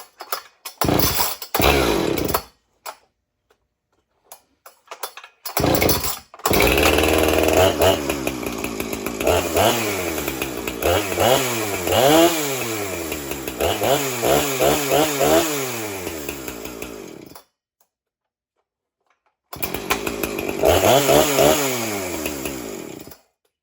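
A Poulan Pro chainsaw, a 2019 model with a faulty chain brake and replaced fuel lines, starts with short bursts, then runs loud with repeated rising and falling revs before cutting off and restarting near the end.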